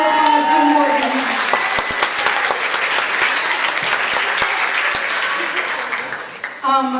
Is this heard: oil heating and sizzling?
no